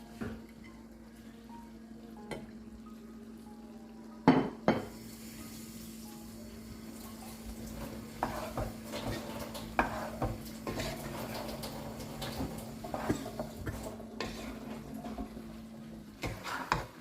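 A wooden spoon stirs okra and potatoes in a pan, giving soft scraping and knocking over a steady sizzle of frying, with sharper clacks as it strikes the pan.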